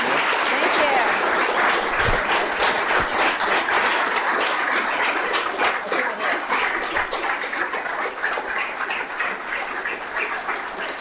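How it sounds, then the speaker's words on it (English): Audience applause for the Prime Minister of Iceland at a fireside chat event, a dense, steady clapping from a crowd indoors that goes on throughout and fades slightly toward the end, with a voice faintly underneath. "I'll cut the applause only briefly,"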